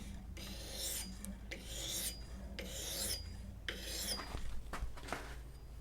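An axe blade is sharpened in a guide jig with a file, several long rasping strokes with short pauses between them, close and fairly loud, with no talking.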